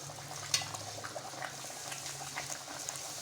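Potato poori sizzles in hot oil, a steady, even, bubbling hiss of deep frying that stays moderately close and constant with no voices over it.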